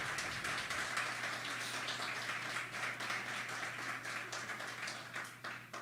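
A crowd at the Pembina County Fairgrounds in Hamilton, North Dakota applauds kids showing livestock, a steady wash of many hands clapping that sounds almost like rain and fades slightly toward the end.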